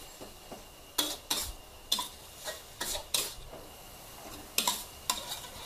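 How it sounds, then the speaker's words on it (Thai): Minced pork and tamarind chili paste stir-fry in a pan, with a soft sizzle broken by repeated sharp scrapes and clinks of a utensil against the pan at an irregular pace. "การจะผัดให้น้ำพริกนะคะสุกสักระดับหนึ่งก่อนให้หมูมันสุกขึ้นมาก่อน"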